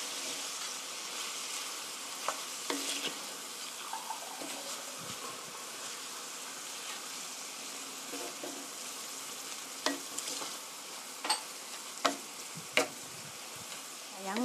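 Garlic and onion sizzle steadily in a pan as they are stir-fried for a chicken and mushroom dish, with occasional sharp scrapes and taps of a utensil against the pan.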